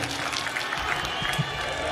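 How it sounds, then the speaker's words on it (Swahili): Crowd at an outdoor Labour Day celebration at Uhuru Gardens applauding the president, a steady wash of clapping and murmur held at even loudness throughout. "Tumpongeze rais kwa makofi tafadhali."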